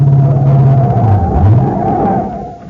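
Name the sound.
car going off a mountain road curve, radio drama effect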